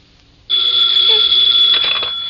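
A loud, sustained electric telephone bell starts abruptly after a half-second hush and rings continuously, close and bright, in an old-time radio detective drama.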